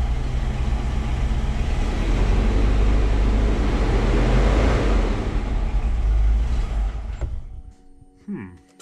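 Classic Range Rover engine with an idle fault, a loud steady rumble rising to a broad roar of revs, then fading as it stalls and dies, leaving near quiet with small clunks at the end.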